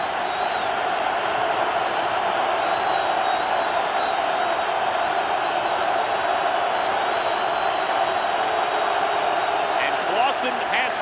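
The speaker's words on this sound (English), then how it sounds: "3rd and 8 as the crowd starts to get into it" Crowd noise fills an NFL stadium during a 2010 Panthers at Seahawks game on third and eight, a loud, continuous roar that stays dense and steady throughout, with a faint whistle-like tone riding on top.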